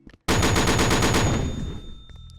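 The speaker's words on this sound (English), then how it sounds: "this is a 410 full auto shotgun." A .410 full-auto shotgun in the Rec Room video game fires one fast, sustained burst of rapid blasts that merge into a loud roar, then fades into a short ringing tail, close and without any talk.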